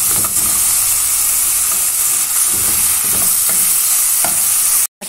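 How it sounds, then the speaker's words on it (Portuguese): Meat browning in a hot pan produces a loud, continuous hiss and sizzle close by, with faint stirring scrapes underneath before it cuts off abruptly. "nossa carne já está dourando"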